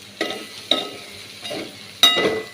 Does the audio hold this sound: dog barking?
no